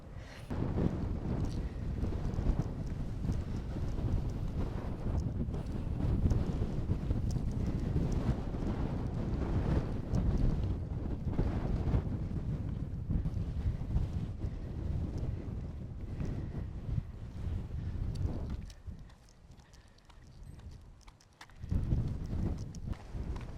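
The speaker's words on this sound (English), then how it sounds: "Quite windy out here today" Strong wind roars and buffets the microphone continuously outdoors on an elevated coastal spot at Point Reyes, California, with a brief lull near the end before the gusts return.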